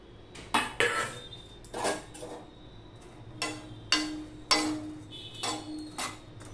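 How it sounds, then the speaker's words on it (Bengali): Ridge gourd pieces go into a wok holding a little water, with a series of close metallic clanks and scrapes against the pan, irregular and separated by short pauses, no voices. "এবার ঝিঙেগুলো আমি কড়াইয়ের মধ্যে দিয়ে দিলাম"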